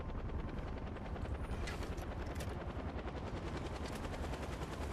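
Helicopter in the video game Far Cry 4, a loud steady rotor chop that pulses continuously throughout, with no talking.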